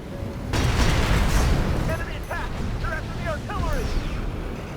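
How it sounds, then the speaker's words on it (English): Grenade cannon explosions in Armored Core 6 mech combat: a heavy, loud booming burst lasting about a second, followed by a steady rumbling din with sharp metallic chirps and whines cutting through. "Grenade cannon didn't actually do anything there against the shield"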